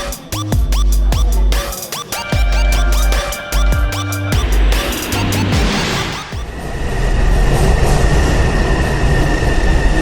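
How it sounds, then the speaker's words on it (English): A train pulls into a station in Taipei, Taiwan, with rhythmic clickety-clack of wheels over rail joints, then a loud sustained rumble and hiss as it slows, close and dominant. "I am now waiting for the train to Beitou"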